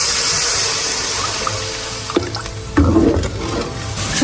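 Water poured into a wok of fried chili paste, doubanjiang and ginger-garlic, making a steady splashing rush that runs throughout, with a bubbling sizzle and a few clanks rising near the end.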